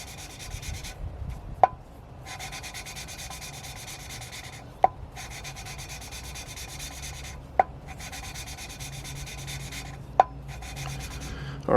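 Steady gritty rubbing of valve lapping on a cylinder head from a 7.3 IDI turbo diesel, with lapping compound and a suction cup. Close and continuous, broken by four sharp taps at regular intervals.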